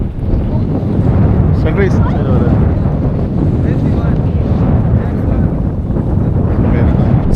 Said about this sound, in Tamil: செம்ம காற்றடிக்குது.